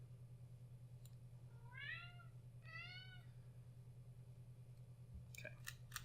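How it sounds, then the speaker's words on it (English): A house cat meows twice in quick succession indoors, clear rising-and-falling cries over a steady low electrical hum, followed by a few faint clicks. "please excuse my cat. He's very annoying."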